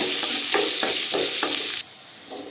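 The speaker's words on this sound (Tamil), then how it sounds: "அடுத்து வெங்காயம் போட்டுக்கோங்க. வெங்காயம் நல்லா வணக்கிட்டுக்கோங்க." Onions fry in oil in a pan while being stirred, giving a steady sizzle broken by several rhythmic scraping strokes, close and moderately loud, after which the sizzle continues more quietly with one last stir.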